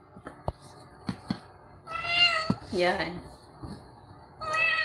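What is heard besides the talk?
cat meowing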